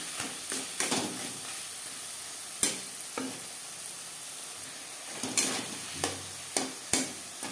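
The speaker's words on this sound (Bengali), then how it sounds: "এভাবে একটু ম্যাশ করে দেব।" Cooked tomatoes with salt and turmeric are mashed and stirred in a sizzling frying pan for a bean stir-fry, with repeated close scraping strokes over a steady hiss of frying.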